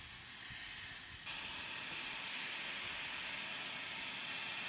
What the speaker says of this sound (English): we're just going to use a shop vac and some micro suction adapters